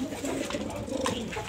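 Pigeons cooing at a bird market in Temanggung, a short soft coo with nearby murmuring in the background.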